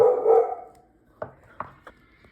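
A dog barks at visitors in a home kitchen, a longer bark at the start followed by a few short, sharp, fainter yips after a pause.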